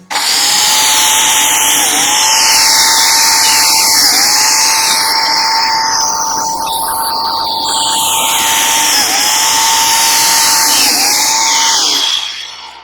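A Makita PJ7000J biscuit joiner cutting slots in wood: a loud, close, sustained high buzzing whine for about twelve seconds, with brief dips in pitch as the blade plunges into the workpiece several times, then spinning down.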